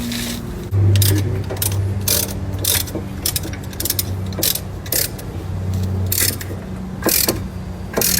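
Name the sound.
ratchet wrench ratcheting during car brake pad change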